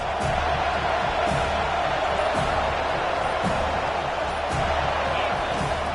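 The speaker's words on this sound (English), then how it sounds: "This crowd trying to make life miserable for this offense." Crowd noise fills a college football stadium during a game between SMU and FSU, a steady loud roar with scattered shouts and thumps sustained throughout.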